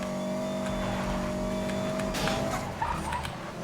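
A car races fast in Need for Speed: Most Wanted (2012), engine droning steadily with a high tonal whine, then a burst of tire squeal and rougher noise near the end, loud and close.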